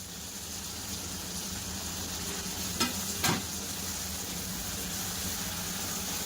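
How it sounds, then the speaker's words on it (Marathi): Finely chopped onion frying with a green chili for palak paneer, a constant close hiss of oil with two brief clatters of a spoon stirring near the middle, no voices. "लगेचच आपल्याला इथे बारीक चिरलेला कांदा घालायचा।"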